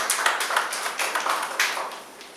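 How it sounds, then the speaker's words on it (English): Applause from an audience honouring an eminent speaker at a session on AI in bio-retina. It is a steady patter of many hands clapping at moderate loudness, with no voices over it. "A very big round of applause."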